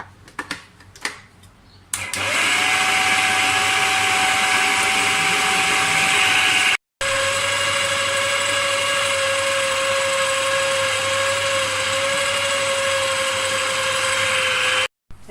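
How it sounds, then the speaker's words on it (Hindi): An electric food chopper runs continuously with a steady high whine and motor hum, briefly stopping and restarting, as it mixes potato and bread crumbs for potato chicken cutlets. "अब अपने चॉपर को चला लें।"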